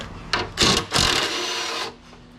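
Power tool unbolting a piece of free scrap metal, likely stainless steel, during salvage: a short close whirring burst with a couple of quick revving pulses that run on briefly, then stop.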